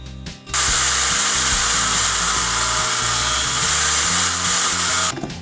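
A power tool grinds off the protruding tips of 3.5-inch screws in a steady, loud, continuous whine lasting several seconds close by, starting and stopping abruptly.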